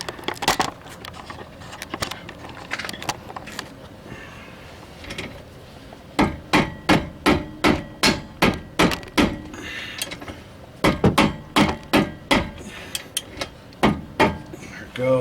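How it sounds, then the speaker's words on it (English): Heavy repeated blows from a sledgehammer or rubber mallet strike rear brake parts on a 2008 Saturn Vue, landing in quick rhythmic bursts of dull metallic thuds with pauses between sets. "I use a sledgehammer or rubber mallet"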